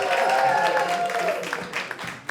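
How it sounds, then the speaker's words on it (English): A stand-up comedy audience claps and cheers warmly for a comedian, the dense applause loud at first and gradually thinning out, with a host's voice speaking over it. "Everyone, let's start clapping."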